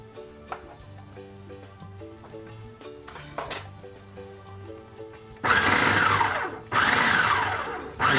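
A food processor-style blender pulses cold butter into dry ingredients for pie crust, with a quiet idle hum broken by two loud, close whirring bursts near the end.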